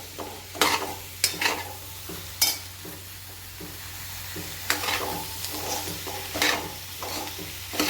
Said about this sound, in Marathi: छान असं सगळं साहित्य असं फोडणीत परतून घ्यायचं